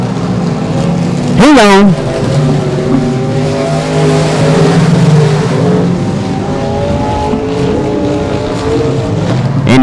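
Dirt-track IMCA Southern Sport Mod race cars at Texarkana 67 Speedway, engines droning loudly and continuously with a brief near pass-by roar, under an announcer's talk.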